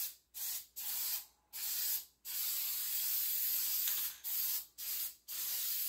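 An aerosol can sprays paint onto a 1968 Pontiac GTO flexplate in a run of short hissing bursts with brief pauses between them, ending in a longer continuous spray, close and fairly quiet.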